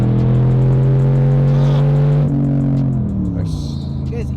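A McLaren sports car engine revs near the listener, a loud deep growl holding steady, then stepping up in pitch as the revs climb, with brief rustling over it.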